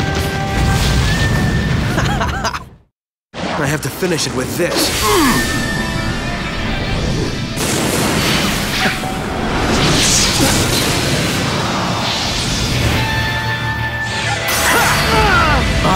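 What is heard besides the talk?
explosions in the video game Naruto Shippuden: Ultimate Ninja 4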